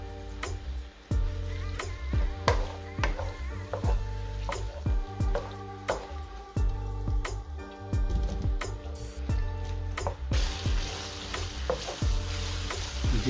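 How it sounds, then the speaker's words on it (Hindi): Onions softening in a frying pan over a high flame, a continuous close sizzle with frequent scraping and tapping of the spatula as they are stirred, no speech. "प्याज को हमें सिर्फ थोड़ा सा सॉफ्ट कर रहे हैं।"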